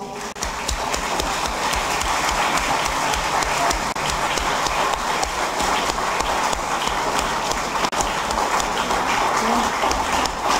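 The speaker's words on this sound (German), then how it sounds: "Ich bitte um Applaus." A crowd at a Vienna International Women's Day gathering applauds an honorary award, a steady, dense, unbroken wall of clapping that holds at an even loudness throughout.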